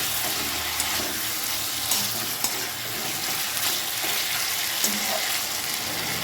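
Fried pointed gourd and prawns stirred in a hot pan, a steady loud sizzle of frying oil running throughout with occasional spatula scrapes and knocks close by.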